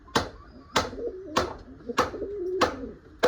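A small-headed female pigeon coos up close in a steady series of five or six sharp, evenly spaced calls, with a soft rolling murmur between them and no talk.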